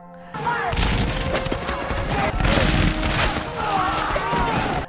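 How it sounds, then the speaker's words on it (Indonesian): Booming blasts and crashing impacts of cannon fire in an American Civil War battle in a cornfield, overlapped by chaotic shouting and a loud continuous din. "Area terbuka diisi dengan aksi saling kirim bom meriam."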